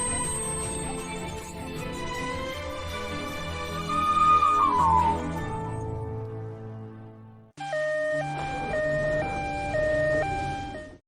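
Ambulance siren wailing loud and near with long held tones and a falling sweep, cutting off, then returning as a steady two-tone high-low alternation.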